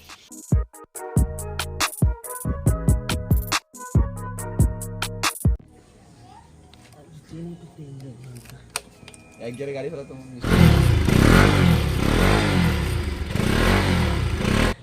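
A Bajaj Pulsar RS200 motorcycle on a test ride after a clutch plate replacement. Loud, steady engine roar fills the last four seconds, after stretches of other tonal sounds and quieter clatter.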